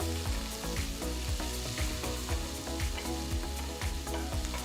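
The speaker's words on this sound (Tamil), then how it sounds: "1 வெங்காயம் பொடியை நறுக்கினதை சேர்த்து 1 நிமிஷத்துக்கு வதக்குங்க." Steady, dense sizzling of chopped onion sautéing in hot oil, with rhythmic scraping and stirring strokes on a pan, close and continuous.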